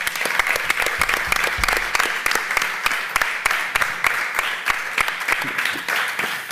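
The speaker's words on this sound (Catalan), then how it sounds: "Un aplaudiment" Live show audience applauds, with dense crowd applause and distinct sharp claps in a quick repeated rhythm, loud and sustained throughout.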